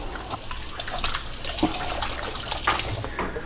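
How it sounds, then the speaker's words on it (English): Tap water runs steadily while hands are rinsed under it in a home kitchen during jam making, a close, continuous splashing hiss with a couple of brief louder splashes and no talk. "and to rinse my hands off"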